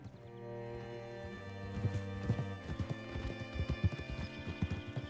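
Steady clip-clop of horse hooves at a trot in Red Dead Redemption 2, fairly close and clear, with a brief snort or whinny in the first seconds.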